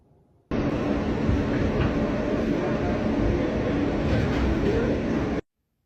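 Subway train riding along the rails, a steady loud rumble with clatter and rolling wheel noise that holds throughout, starting and stopping abruptly.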